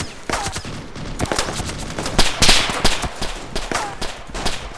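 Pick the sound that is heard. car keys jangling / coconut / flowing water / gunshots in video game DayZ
gunshots in video game DayZ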